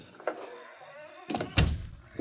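Door being shut in a 1940s radio drama: a soft sliding rumble, then a firm, close thunk as it closes, with faint background sound and no voices.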